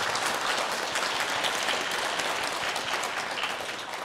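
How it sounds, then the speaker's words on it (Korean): A church congregation gives a steady round of applause for the organ and piano players at a Sunday service, dense even clapping that fades slightly toward the end. "우리 축복의 박수 하겠습니다"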